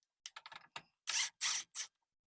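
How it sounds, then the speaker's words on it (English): A Phillips screw is backed out of the pressure switch on an LG front-load washing machine, heard as a quick series of close, dry clicks followed by three longer scraping ratchet-like turns, then quiet. "Our next task is to remove this pressure switch off of it with this Phillips head screw right here."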